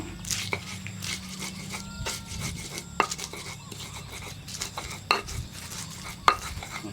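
Spices ground in a stone ulekan mortar and pestle for jangan tewel, young jackfruit stew, give irregular knocks and scrapes, a few sharper impacts standing out against a soft, wet background.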